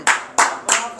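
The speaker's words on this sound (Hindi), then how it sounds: "ताली लगा के रखो भैयान" Hands clap in a steady rhythm of four sharp, close claps, roughly one every third of a second, cheering on a pizza eating challenge in Lahore.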